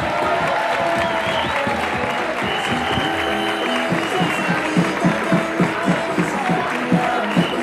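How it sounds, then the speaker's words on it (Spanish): Sustained crowd applause at a trophy presentation, dense clapping from many people with some cheering, steady and fairly loud throughout, with rhythmic claps emerging toward the end. "Ese fuerte aplauso."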